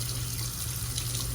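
Tap water runs steadily while rinsing an electric FlexSeries shaver, a constant hiss with a low hum beneath, with no talk.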